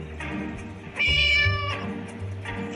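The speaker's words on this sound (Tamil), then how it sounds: "அந்த பூனை கத்திக்கிட்டே இருக்கு" A cat meowing inside the Scary Teacher video game: a couple of drawn-out, loud meows over a droning game soundtrack, close and clear with no talk.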